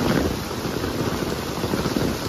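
Heavy July rain pours on a street in Huajuapan de León as water reaches the curb, a dense, loud, steady hiss and patter with no talk.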